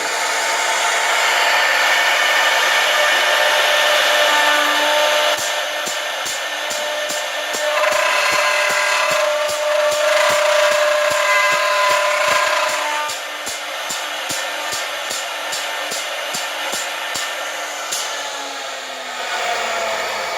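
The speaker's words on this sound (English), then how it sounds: "turn on the oscillation, turn on the motor" A door light cut-out machine runs steadily, its motor whining with a continuous buzzing drone and a rapid regular oscillating pulse, close and loud for the whole stretch without talk.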